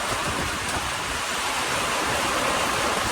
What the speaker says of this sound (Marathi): अचानक असा पाऊस आला मित्रांनो